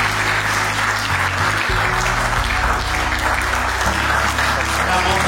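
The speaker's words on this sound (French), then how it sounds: "Est-ce qu'on peut les applaudir?" Loud, dense applause from an audience cheering children at a back-to-school supplies handout, sustained for several seconds over steady background music.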